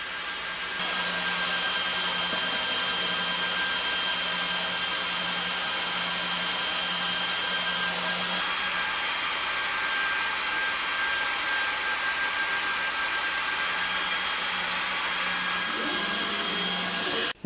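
Laser engraver running through a material test, a steady, even whirring hum from its fan and motion, continuous at moderate volume from start to finish with no talk.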